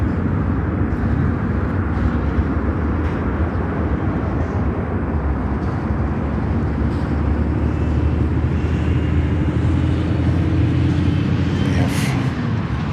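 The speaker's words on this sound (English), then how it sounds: "Whilst we see here EVA Air Cargo taxiing out for takeoff" EVA Air Cargo freighter taxiing out for takeoff at Chicago O'Hare, a steady, continuous low jet engine rumble and whine holding throughout at moderate distance, with faint voices in the background.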